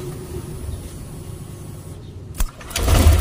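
A Honda Click scooter with a check-engine fault cranks and fires up, a short starter burst followed by the engine catching into a louder low idle rumble at the end.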